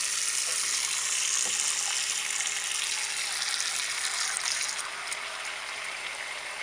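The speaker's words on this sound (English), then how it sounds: "I'm just going to run the hot water now to show you how the plug changes colour" Hot water runs from a bathroom tap into a sink, a steady hissing splash that stays close and even throughout and eases slightly toward the end, with no talking.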